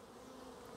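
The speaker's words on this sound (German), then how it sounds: "ob da nicht irgendwo ein Schwarm hängt oder zumindest viele Bienen fliegen" Honey bees hum at a beehive in an apiary, a brief, steady, faint buzz with no talk over it.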